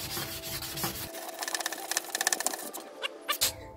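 Abrasive scrubbing of a charred, greasy grill grate with a grill stone on a Grilla Grills Kong, a run of quick rasping back-and-forth strokes growing faster and louder midway, close and alone.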